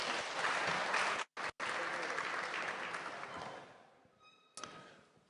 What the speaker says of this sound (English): Please, a big round of applause for Mr. Jason Swett.